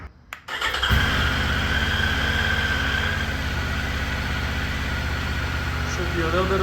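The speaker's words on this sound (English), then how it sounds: "Let's start the bike up." A 2023 Triumph motorcycle engine cranks briefly and catches within the first second, then settles into a steady, loud, close idle.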